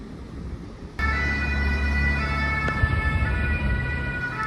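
Fire engine siren sounding loud and steady at a street spot in Deauville, holding multiple sustained tones over traffic rumble with a brief sharp knock near the middle.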